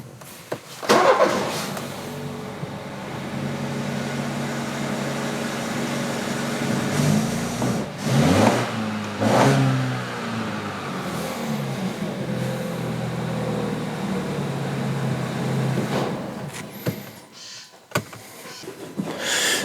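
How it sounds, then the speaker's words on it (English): A car engine at a garage cranks and catches, then settles into a steady idle for most of the clip, with a brief surge partway through and close, continuous low rumble. "I'll just go and start the engine so you can see what that looks like."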